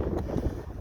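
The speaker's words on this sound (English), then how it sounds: "this wind is really howling" Wind buffets the microphone outdoors in snowy weather near a steam tractor, a low, continuous rumbling roar with slight gusting swells, loud and close, with no speech.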